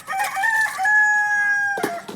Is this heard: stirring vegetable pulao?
no